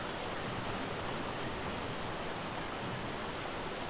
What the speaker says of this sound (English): You can hear the waterfall